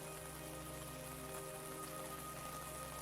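Gentle, steady rain falls on a surface, a soft continuous patter with no clear pauses and a faint low hum running underneath throughout.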